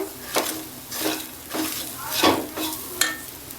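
Moong dal roasts in a pan and is stirred in about six rhythmic scraping sweeps, each a gritty rasp of the utensil against the metal.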